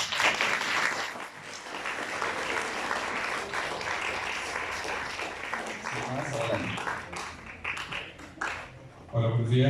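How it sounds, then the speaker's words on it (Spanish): A conference audience claps for an introduced speaker in a sustained burst of applause that swells, then thins out. A voice comes in near the end. "Les pido un aplauso, por favor."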